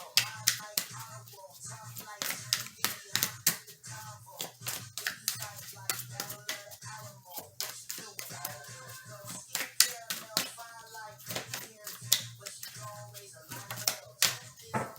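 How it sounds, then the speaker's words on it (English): Tarot cards are shuffled and snapped down onto a table in a rapid, uneven series of crisp slaps and riffles, close and fairly quiet, with no talk. "I anticipate on spreading a lot of cards."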